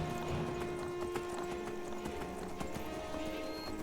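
A horse runs in a fantasy story, its quick clip-clop hoofbeats carried over a busy layered background of music and ambience, with no voices.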